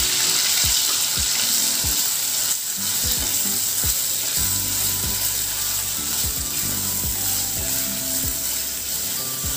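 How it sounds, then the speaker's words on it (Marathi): Masala paste of ground spices frying in hot oil for a chicken dish, a steady close sizzle with scattered pops and stirring clicks throughout, no talking. "त्यामध्ये आता मी हे जे वाटण आपण मगाशी वाटलं होतं ते छान तेलामध्ये घालून आपण परतून घेणार आहोत।"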